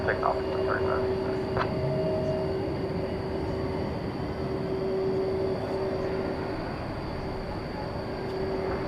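A jet taking off from runway 1 Left at DFW Airport at night: a continuous broad engine roar with a steady whine, heard from a distance and holding level throughout, with faint radio chatter in places.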